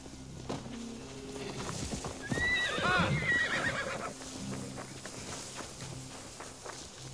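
A horse in Assassin's Creed Valhalla gives a loud, close whinny midway, surrounded by clip-clop hoofbeats and ambient game sounds.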